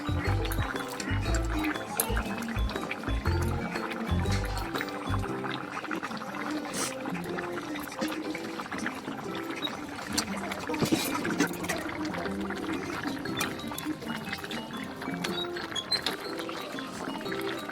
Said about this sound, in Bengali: আলুটা সিদ্ধ হয়ে গেছে, মাছগুলো দিয়ে দেবো এবার একে একে।